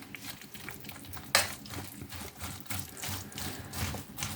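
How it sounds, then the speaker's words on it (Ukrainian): Tuna salad being stirred in a bowl, with a steady wet, scraping churn of a utensil moving through the mixture and one sharp clink against the bowl partway through, close and fairly loud. "Перемішуємо."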